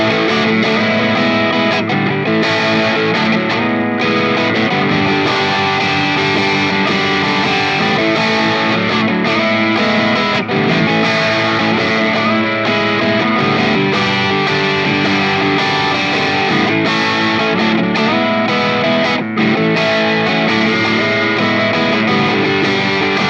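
A Music Man John Petrucci JP15 electric guitar plays through effects, producing a loud, continuous distorted tone with sustained chords and notes and no talking.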